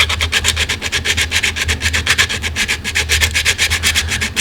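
Quick, rhythmic rasping strokes of sanding on hardened super glue, about five per second, close and steady throughout with no talking.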